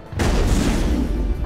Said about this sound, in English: I like the sound effects in the background, the explosions and stuff.